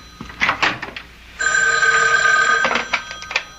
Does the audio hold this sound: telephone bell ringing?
yes